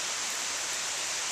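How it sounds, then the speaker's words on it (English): Rain falls on a summer vegetable garden with tomato plants, an even, dense hiss of drops that runs steady and unbroken throughout. "So while the rain comes down and waters everything,"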